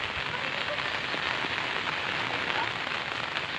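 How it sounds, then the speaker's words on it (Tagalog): Rain falls steadily outdoors near a river, a dense, even hiss of drops hitting surfaces with no voices, close and constant throughout. "Umuulan dito, guys."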